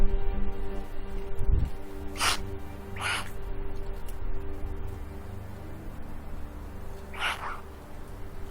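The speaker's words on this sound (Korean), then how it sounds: "까마귀 떼 극성은 유명합니다." Crows in a Korean wild-nature setting give several separate caws, at about two, three and seven seconds. The calls are moderately loud and ring out over a steady low ambient hum.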